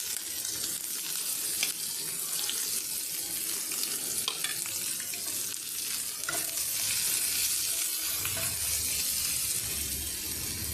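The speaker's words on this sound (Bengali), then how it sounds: "এরপরে আমি পেঁয়াজ দিয়ে দিলাম।" Onions frying with cardamom, cinnamon, cloves and bay leaf for an egg curry give a continuous close sizzle, broken by repeated scraping stir strokes, with no voices.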